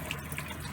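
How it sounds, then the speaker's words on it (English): Water flows steadily from the line of a reverse osmosis unit being installed, a close, even stream with a soft continuous splash. "look at this water coming out of here"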